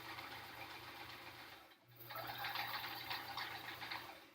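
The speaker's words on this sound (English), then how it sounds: "this is my mom's old sewing machine. It is a Sears Kenmore machine from the 70s." A 1970s Sears Kenmore sewing machine stitches a quilt, its steady motor whir and rapid needle chatter running continuously up close, with a brief pause near the middle before resuming louder.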